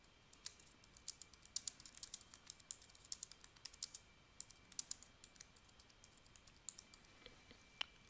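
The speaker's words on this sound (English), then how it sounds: "So let's go ahead and type that in." Computer keyboard typing, a quiet close stream of irregular key clicks as caption text is entered, with no one speaking.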